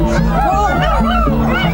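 Several dogs bark and yip at a dog concert in Times Square, seated near loudspeakers. The sharp, overlapping barks come close and loud, repeating in quick bursts over a murmur of crowd noise.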